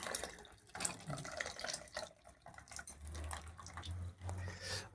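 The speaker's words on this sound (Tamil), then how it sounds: "கரைச்சி வச்ச புளி தண்ணியை ஊற்றிக்கலாம்." Dissolved tamarind water is poured into a fish curry being made with nethili fish and ground coconut, a soft close splashing and trickle of liquid lasting a few seconds, faint and without talking.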